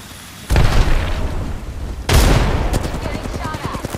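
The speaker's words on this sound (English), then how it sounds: "Grenade!" Loud grenade blast and gunfire in the battle-royale shooter Apex Legends: two heavy booms about one and a half seconds apart, each trailed by sustained crackling fire, with rapid automatic bursts toward the end.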